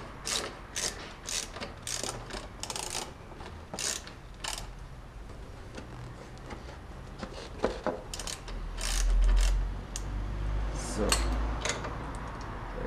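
A ratchet clicks rapidly in repeated bursts, close and clear, while backing out the rear screw on a Kawasaki Ninja ZX636A motorcycle, with a voice speaking briefly in between.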